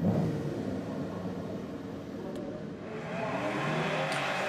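Historic rally cars leave the start of the Vallauris-Valberg event, their engines a rumbling, whirring drone that swells louder near the end as a car accelerates away.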